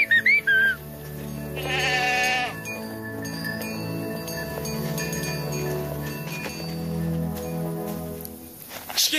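Cartoon goats bleat in a few short, high, wavering calls near the start, and instrumental music then carries on beneath them for the rest of the stretch.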